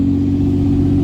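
A truck towing a load pulls out onto a main road, its engine a loud, steady, close drone with a low rumbling hum throughout the brief moment.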